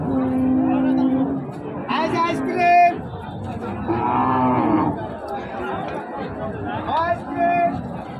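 At a border-area cattle market in Panchbibi, local cows give several close, drawn-out moos spaced across the stretch, mixed with the murmur and chatter of buyers and sellers.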